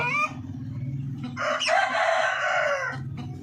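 Upgraded native Philippine chickens cluck near the start before a rooster lets out one loud, drawn-out crow close by, followed by more soft clucking with no talking.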